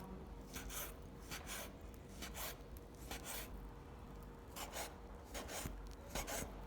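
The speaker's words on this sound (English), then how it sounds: "Place them on a cutting board, slice into strips," A knife slices shiitake mushrooms into strips on a cutting board, producing a steady series of soft, rasping cuts in quick bursts, close and quiet, with no voices.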